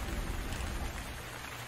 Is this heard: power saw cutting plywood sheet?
no